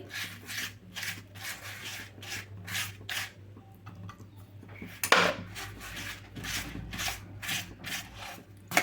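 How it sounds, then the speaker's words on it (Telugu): Butter is spread over hot naan with repeated rhythmic scraping strokes, close and fairly loud, with a sharp clatter around the middle and no voices. "వేడిగా ఉన్న మాదిరినే బటర్ని అయితే అప్లై చేసుకోవాలండి"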